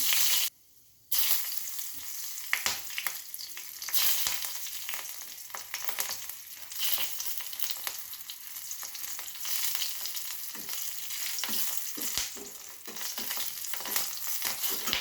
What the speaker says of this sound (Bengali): ওই তেলে আমি আর খানিকটা তেল দেবো। পাঁচফোড়ন দিলাম